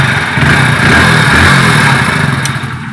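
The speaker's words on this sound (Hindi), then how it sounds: "देख रहे दोस्तों बाइक हमारा स्टार्ट है, बिल्कुल स्टार्ट है, सेल्फ ले रहा है" A Hero Splendor BS6 motorcycle engine runs steadily close by after an electric self-start, a continuous mid-pitched idle with slight rises in intensity, heard alone.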